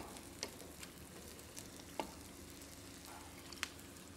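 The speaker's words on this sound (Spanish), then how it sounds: "Y tú vete removiendo ese sofrito" Onion sofrito frying in a pan on a TV cooking set, stirred by hand: a steady faint sizzle throughout, with a few soft scraping clicks from the utensil.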